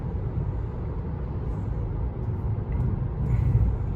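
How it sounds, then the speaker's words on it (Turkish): Kia Niro EV electric car driving on the road, a steady low interior rumble of tyres and road noise with no engine sound, a faint light tick near the end and no talking. "Evet arabamız gidiyor."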